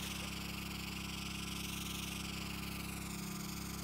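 Twin boat engines drone steadily in Stormworks, a loud, even mechanical hum driving three propellers, unbroken throughout with no talk.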